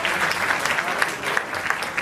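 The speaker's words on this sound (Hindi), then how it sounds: "एक बार अपने लिए जोरदार तालियां बजा लें।" Contestants and crowd at a model hunt fashion show applauding loudly, a steady dense burst of many hands clapping, close and sustained without pause.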